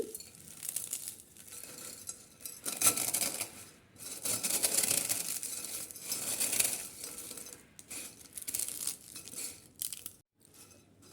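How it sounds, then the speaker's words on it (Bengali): Crisp deep-fried gram-flour jhuri is snapped apart by hand, giving quiet dry crackling and crunching bursts with short pauses between them and no talking. "এই দুইটা আমি সম্পূর্ণ ভেঙে নিচ্ছি"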